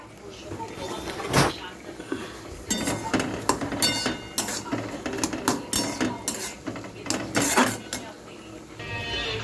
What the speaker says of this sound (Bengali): দিয়ে কড়াতেই খুন্তি দিয়ে নেড়ে নেড়ে একটু নরম করব।